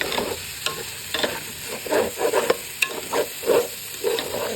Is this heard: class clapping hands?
no